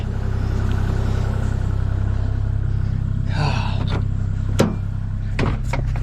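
An old beater car's engine idling just after starting, a loud, steady low rumble with a throbbing pulse, close by, broken by a few clanks and knocks partway through.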